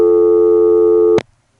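A steady, loud electronic tone from the lockout relay of a 1976 Stromberg-Carlson ESC telephone exchange in Quarryville, Pennsylvania, holds for about a second before cutting off abruptly with a click, followed by near silence.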